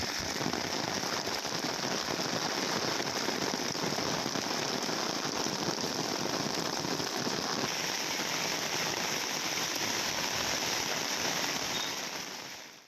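Heavy rain pours steadily and loudly for the whole stretch, a dense continuous hiss with crackling impacts, then cuts off abruptly at the end; no distinct thunder clap stands out.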